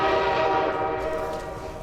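Train horn in the Portal 2 video game, a loud, sustained multi-tone blast sounding close and alone, slowly fading over its length.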